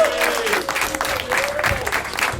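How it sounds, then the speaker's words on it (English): Audience applause at a comedy show at the Star Dome, a steady wash of many hands clapping with some crowd noise, loud and close throughout, with a faint voice beneath the clapping. "Another round of applause for Tucker, everybody."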